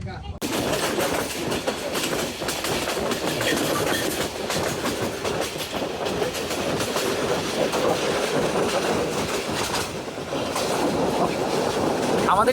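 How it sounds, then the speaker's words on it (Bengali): The Jamalpur Express passenger train rolls steadily along the rails leaving Joydebpur station, with a loud, continuous rumble and rhythmic clatter of wheels, heard from inside a carriage. "আমাদের ট্রেনটি এখন জয়দেবপুর রেলওয়ে স্টেশন ছেড়ে যাচ্ছে"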